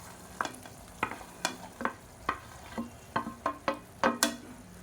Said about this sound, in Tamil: இப்போ நம்ம வதக்கி வச்சுருக்க இந்த வெண்டைக்காயை சேர்த்துக்கலாம்.